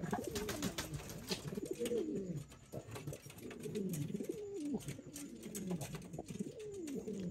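Fancy show pigeons coo repeatedly in soft, rolling, throaty phrases, several birds overlapping at close range, with faint background noise and no speech.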